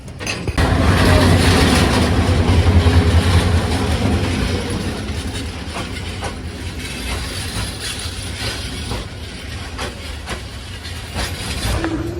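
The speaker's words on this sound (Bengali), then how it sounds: "আর এইমাত্র আমাদের ট্রেনটা ছেড়ে দিছে" A passenger train pulling out of Maijgaon station on the line toward Sreemangal, Bangladesh; loud close rumble and hiss of the engine building, then steady clickety-clack of wagons rolling past and fading slightly.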